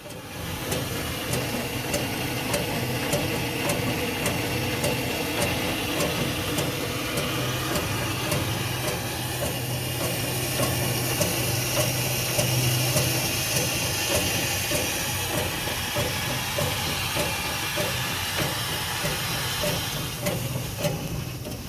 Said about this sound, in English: the boiler makes a little steam and the engine starts rolling